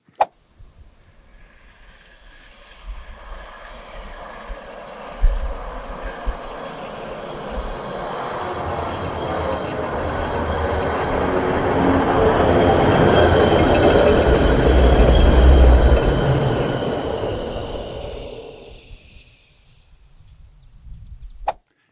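A train approaches, rumbles and clatters past at close range, building to a loud peak before fading away, with wheels rattling on the rails.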